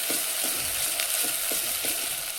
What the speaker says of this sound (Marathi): चांगला मसाला परतलाय आता